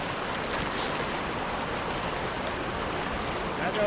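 Floodwater of the Kaveri river near Mysore rushing with great force, a continuous close roar of churning water, steady throughout with a slight swell at the end.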